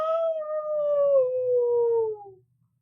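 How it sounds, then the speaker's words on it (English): A single long, mournful wolf or coyote howl glides slowly downward in pitch in the woods at night, clear and fairly close, fading out after a couple of seconds with faint low rumbling beneath. "I can hear fucking wolves howling at the moon going"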